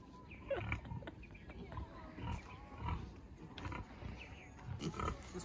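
A pig being chased and caught outdoors on Oahu, giving several short grunts and squeals at irregular moments, with people talking over it.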